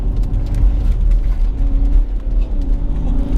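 Alpina XD3 Bi-Turbo SUV engine held on the rev limiter at 5,500 rpm while driving on a cold, slippery road, a steady droning growl with slight pulsing, heard from inside the cabin.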